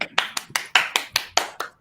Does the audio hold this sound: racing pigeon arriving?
no